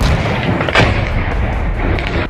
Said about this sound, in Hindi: फिर तोप से गोले दाग दाग कर पाकिस्तानी चौकियों के चीथड़े उड़ा डाले